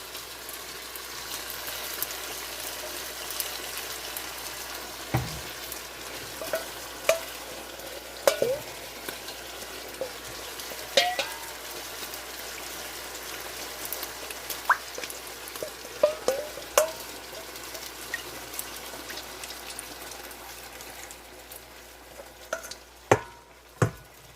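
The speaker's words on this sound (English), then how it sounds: "I'm going to go ahead and put a little bit of beef broth in here to wash this all out" Beef broth poured into a hot pan with browned beef hisses in a steady sizzle for a long stretch, punctuated by scraping stirs and clinks of a utensil on the pan.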